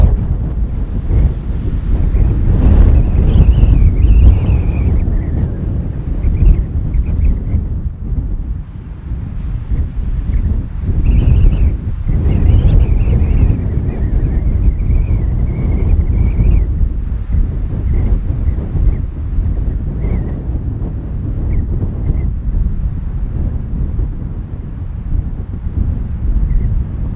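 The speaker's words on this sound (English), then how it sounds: "It's still raging windy out there" Strong wind roars across a desert campsite in Utah's Red Desert after dark, buffeting the microphone in loud, continuous gusts for the whole stretch, with no talking.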